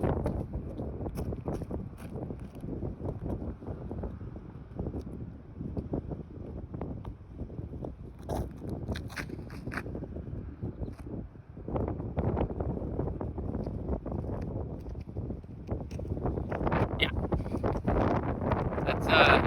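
Strong wind buffets an open disc golf course, producing continuous gusty roar and rumble across the whole stretch, rising and falling in bursts with faint rustling mixed in.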